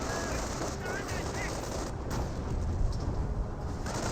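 Distant gunfire from Wehrmacht grenadiers in a Company of Heroes 1 match, a dense ongoing rattle of rifle shots mixed with battle noise and rumble, steady and fairly loud throughout.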